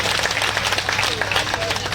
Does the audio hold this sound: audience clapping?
yes